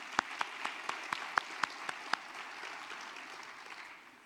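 A handful of scattered hand claps at an awards luncheon, about eight sharp claps over two seconds, faint and somewhat distant, then trailing into quiet room tone.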